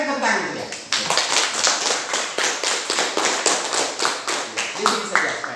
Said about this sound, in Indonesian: Mari tepuk tangan dulu ya.